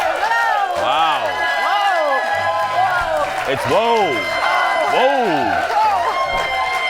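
A worked-up Friday studio audience at a talk show cheers, claps and lets out rising whoops. The crowd noise is loud and sustained, and a host's voice speaks over it.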